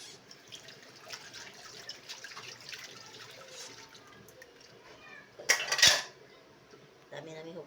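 Plates and cutlery being washed at a sink, with soft clinks and dish handling throughout, trickling water, and one louder clatter of dishes near the end.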